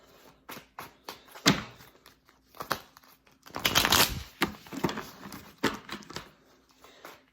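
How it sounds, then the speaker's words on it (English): A deck of tarot cards is shuffled close by, giving irregular riffles and soft slapping and rubbing sounds, with one longer riffling burst midway. No talking. "We're going to pick a card for Meg and one card for Tory"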